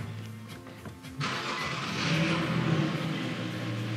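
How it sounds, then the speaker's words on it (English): An Infiniti Q50 engine starts with a short burst of cranking, then settles into a steady low idle heard from nearby. "start the car"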